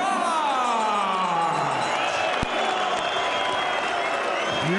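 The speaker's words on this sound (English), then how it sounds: "Huge applause for the Nottingham fighter." A packed boxing arena crowd roars with sustained applause and cheering for Nottingham fighter Carl Froch during ring introductions against Arthur Abraham, a dense wall of clapping and whoops with an announcer's voice sweeping through.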